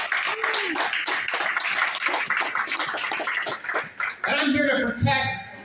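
An audience applauds at a mayoral campaign event in Sunrise, a dense run of close clapping that holds steady and then thins out near the end as a voice begins speaking.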